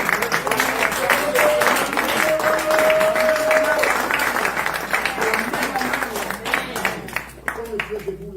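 A congregation applauds during a Sunday church service, a dense, sustained wash of clapping hands from many people with voices mixed in, fading slightly toward the end.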